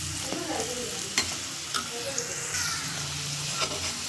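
Modaks fry in hot oil with a steady, close sizzle as they are flipped, with a few light clinks and scrapes of a utensil against the pan and no talk.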